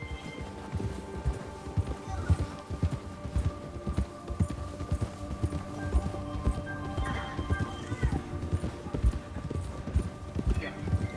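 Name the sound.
horse galloping in a video game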